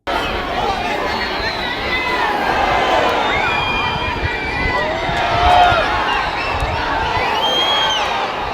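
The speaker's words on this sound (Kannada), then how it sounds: "ಅಭಿಮಾನಿಗಳು ಮೋದಿ ಮೋದಿ ಅಂತ ಜೈಕಾರ ಕೂಗಿ ಸಂಭ್ರಮ ವ್ಯಕ್ತಪಡಿಸಿದರು." Fans lining a road cheer and chant as the Indian Prime Minister's vehicle passes, a loud, continuous roar of many voices with shouting and babble rising and falling, and a swell of excitement midway.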